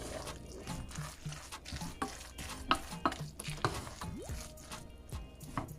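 Mac and cheese with a small piece of butter is stirred, producing a run of soft, irregular scraping and clicking strokes of a spoon against the pot, fairly quiet and close.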